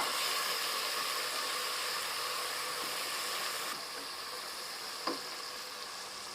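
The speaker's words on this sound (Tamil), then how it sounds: "பச்சை மிளகாய் ஒரு நாலு உடச்சி போட்டுறேன் இது அரை கிலோக்கு இதை இப்போ நல்லா வதக்கலாம்" Broken green chillies sautéing in hot oil with tomatoes for Hyderabadi chicken dum biryani, a steady loud sizzle throughout that drops slightly partway, with a brief stir clink near the end and no talking.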